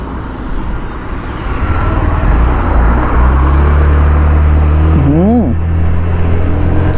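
A Honda Activa 125 scooter (2025, BS6 engine) starts and pulls away, its engine note rising and holding steady close by as it rides, with a short tonal sweep near the end.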